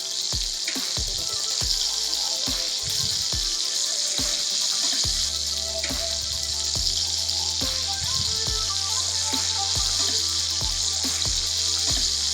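Pomfret fish and banana frying in a pan, a steady loud hiss and crackle of hot oil running throughout, with occasional low clunks and scrapes of cookware.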